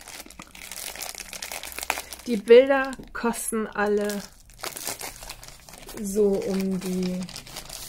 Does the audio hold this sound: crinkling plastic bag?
yes